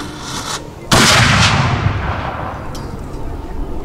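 Historical black-powder cannon fired during a demonstration at a grand encampment, one sudden loud boom that rolls off into a long decaying rumble, with faint crowd and voices before the shot.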